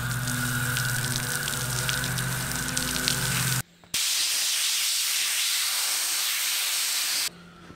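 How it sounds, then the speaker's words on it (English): Running water pours steadily and close from a tap as a cold-blued machined metal piece is rinsed, a dense hissing spray that cuts off briefly, resumes, then ends. "it's time for me to go out and rinse it off"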